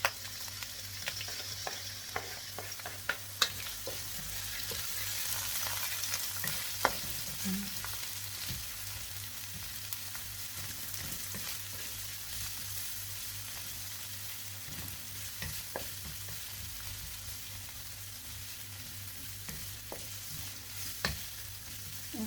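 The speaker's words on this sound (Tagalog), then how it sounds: "Mainit na yung kawali. And lagyan na natin yung sibuyas." Onions sautéing in a hot pan with olive oil, a steady soft sizzle running throughout with occasional stirring clicks and scrapes, close and moderately loud, no talking.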